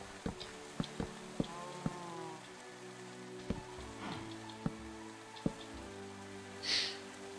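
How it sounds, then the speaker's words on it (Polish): Sparse drips and taps of Minecraft rain falling on a surface, with scattered sharp drops over a quiet, low background. "ściszmy sobie to, bo ten deszcz jest trochę nieznośny"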